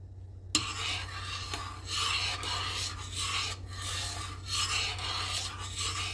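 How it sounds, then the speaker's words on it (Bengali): Payesh, rice pudding of rice and milk, is stirred in a pot with repeated close scraping strokes, roughly one per second, after a sharp knock at the start. "বারে বারে নেড়ে নেড়ে রান্না করে নিচ্ছি"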